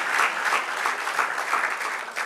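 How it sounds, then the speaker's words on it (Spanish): A church congregation claps together in a steady, dense round of applause, moderately loud and continuous throughout, with no voices over it. "Dale un aplauso al Señor"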